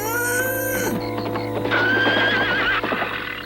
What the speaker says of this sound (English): That horse whinny sounds like it's coming from where Oscar's being kept.